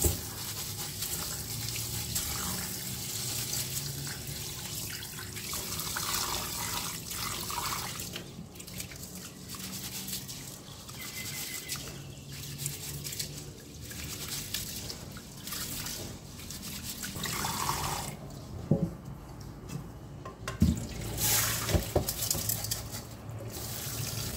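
Rice grains being rinsed and swished in water in a kitchen, with steady trickling, dripping and sloshing over about twenty-four seconds, some clinks and splashes near the end.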